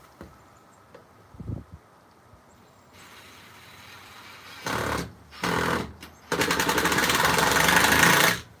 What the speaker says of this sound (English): This is an impact drill. An impact drill will screw things on even after it's too tired.